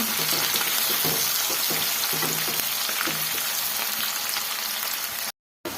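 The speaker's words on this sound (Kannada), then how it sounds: "ಈ ಥರ ಚೆನ್ನಾಗಿ ಫ್ರೈ ಮಾಡ್ಕೊಳ್ಳೋಣ" Ingredients for capsicum rice fry in oil in a pan, giving a dense, loud, close sizzle with a low rhythmic scraping beneath, then an abrupt short silence near the end.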